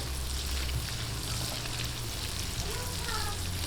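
Garlic and onion sauté in butter in a pan, a dense continuous sizzle heard up close with a low background hum and no clear speech over it.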